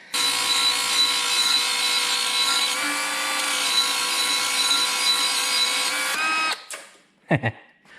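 A Milwaukee belt sander bevels a piece of wood with a steady, high whining drone for about six seconds. The motor then winds down and stops, followed by a couple of brief knocks.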